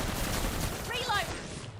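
Gunfire in a PC shooter video game comes as a short burst of rapid shots, close and loud, then fades out quickly.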